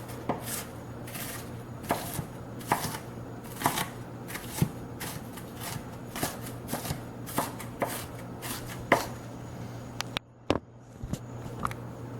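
A knife chops vegetables for salsa on a cutting board, sharp irregular knocks repeating every half second or so, close and clear, with a short pause near the end before a few final cuts.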